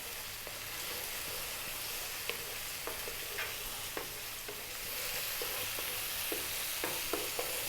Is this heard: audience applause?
no